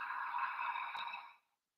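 Ujjayi pranayama breath: a steady, hissing inhale through the nose with a constricted throat, close and soft, lasting over a second before fading into silence.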